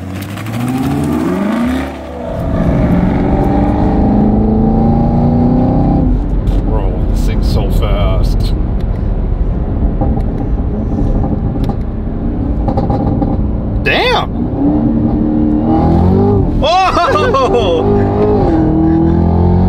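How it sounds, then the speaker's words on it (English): A Camaro's engine revs hard and loud close by, with sharp popping backfires breaking through the roar, while people talk excitedly over it. "I can't believe I get backfires like that"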